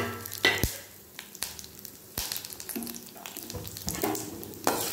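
Chopped ridge gourd and grated coconut sautéing in hot oil in a pan, a steady close sizzle with intermittent stirring scrapes and clinks, no voices.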